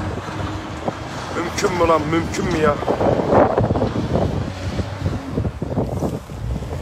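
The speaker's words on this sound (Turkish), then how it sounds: "Rüzgar ne biçim rüzgar var ya?" Strong wind buffets the microphone at a forest fire in a wooded area, a roaring, gusty rush throughout while someone speaks over it in distress.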